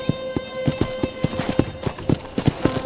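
Horse hooves clip-clop steadily in Red Dead Redemption, a brisk, even walking rhythm of sharp close knocks that repeats several times a second over a faint ambient hum.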